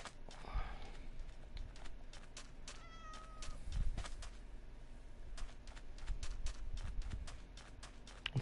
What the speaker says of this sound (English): It's a loud cat.